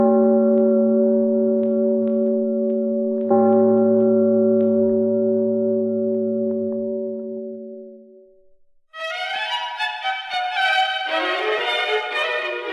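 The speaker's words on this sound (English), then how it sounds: "Struck in their coral towers the passing bell, and wide in ocean tolled his echoing knell." A passing bell tolls with one long resonant stroke, then a second strike that rings out and fades slowly, followed by brighter chiming tones.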